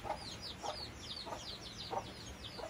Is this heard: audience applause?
no